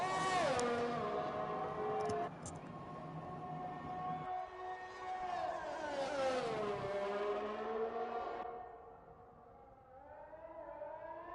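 A race car engine on a flying lap in a racing video game, whining through rising and falling revs with gear shifts, steady and fairly close, with no talking heard.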